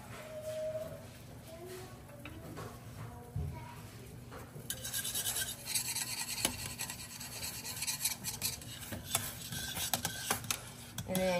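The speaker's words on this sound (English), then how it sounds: "I am going to stir in my cream of wheat and whisk as I do so." A whisk stirs cream of wheat into a pot of boiling water, giving a steady scraping, rasping sound with quiet bubbling underneath, getting busier and louder halfway through and continuing to the end.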